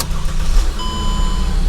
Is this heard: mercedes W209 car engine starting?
yes